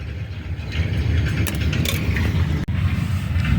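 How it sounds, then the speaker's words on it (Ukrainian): A car passes along a road beside a garden with seedling beds, its engine and tire noise rising and falling as a steady, fairly loud wash with no talking. "Хай машина проїде"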